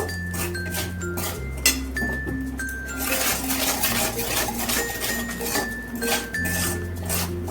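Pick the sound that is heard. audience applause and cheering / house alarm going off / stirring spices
stirring spices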